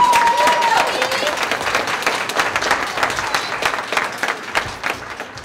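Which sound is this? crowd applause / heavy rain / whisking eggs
crowd applause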